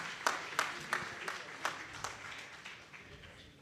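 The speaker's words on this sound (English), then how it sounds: "Please have a huge round of applause." Applause rises at a startup launch event: a few sharp claps ring out first, then quieter scattered clapping fades away, with a voice faintly in the background.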